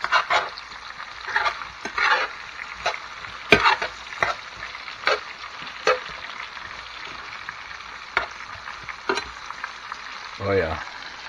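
Chicken frying in bacon grease in a Presto electric skillet, a steady close sizzle and crackle with brief sharper pops and stirring scrapes running throughout, no talk over it.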